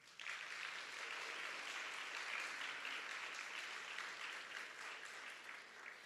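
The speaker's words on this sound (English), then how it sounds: "Let's give them a round of applause" An audience at a school board meeting applauds student athletes, giving a steady, moderately distant round of clapping that lasts about six seconds and tapers slightly at the end.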